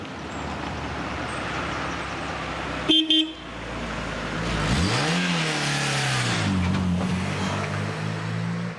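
A car drives fast through a busy street scene, with a short double horn toot and then a rising, revving engine that sweeps up and settles into a steady roar.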